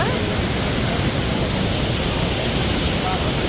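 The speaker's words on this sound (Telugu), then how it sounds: "ఓకే వాటర్ ఫాల్స్ ఉంది చాలా బాగుంది వాటర్ ఫాల్స్" Steady broadband roar of a waterfall in Coorg on a cold day, a continuous dense rush of water filling the whole clip at an even, fairly loud level with no breaks.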